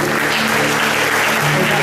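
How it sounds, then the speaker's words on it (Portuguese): A church congregation applauds during a celebration service, a loud, full wash of clapping over a sustained musical drone from the worship band. "Vamos aplaudir o Senhor."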